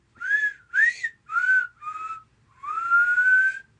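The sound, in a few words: whistled imitation of the Close Encounters of the Third Kind theme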